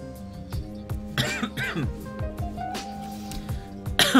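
Several short, harsh coughs in a row, close by, with clattering knocks and bumps of objects between them.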